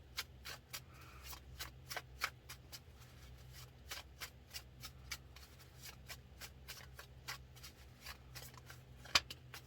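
Tarot cards are shuffled and pulled from the deck in a fast run of soft, crisp flicks and riffles, quiet and close, with one sharper snap near the end.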